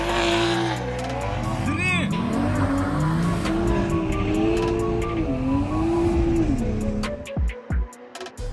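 Toyota Supra A90 and A80 engines rev loudly and continuously, with a rising and falling drone and a tire squeal chirp near two seconds, while people talk over the noise before it cuts off near the end.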